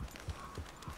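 Horse hooves clip-clop at an even walking pace in Red Dead Redemption 2, with soft regular thuds about three per second over a low ambient hum.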